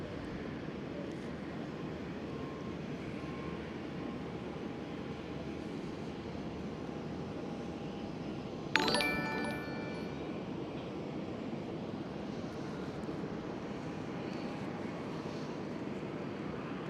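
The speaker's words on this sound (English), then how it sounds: "Air France A220 taking off runway 24." An Air France Airbus A220 takes off from runway 24 at Schiphol, a faint, steady jet roar heard from a distance with one brief sharp clatter midway.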